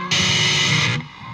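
An electric guitar played through a DS1 distortion pedal gives one sustained, buzzy distorted chord or note, loud and close, held for about a second before cutting off abruptly.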